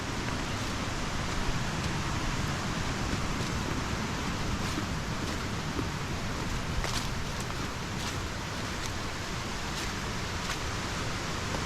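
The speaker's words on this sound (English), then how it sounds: "it is a pretty waterfall, and I'm sure you can hear it" A roadside waterfall in Bankhead National Forest gives a steady, even rushing roar that fills the whole stretch, heard at some distance, fairly soft and unbroken, with no voices.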